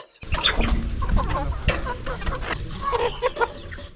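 Several free-range native country chickens cluck and murmur close by on a village farm, overlapping in busy bursts with soft scratching in the soil in the background.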